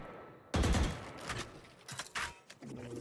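Wall-bang gunfire during a competitive Valorant esports match: a heavy burst of shots followed by scattered further shots and thuds over about three seconds, loud and close with no commentary.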